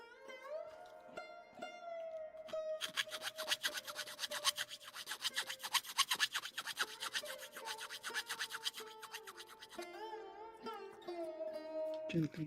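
Quiet, steady rubbing and rasping as knobs are rubbed off plastic parts of a 1/144 HG Bandai Gundam model kit, a busy scratchy texture that swells in the middle, with faint tonal hum underneath.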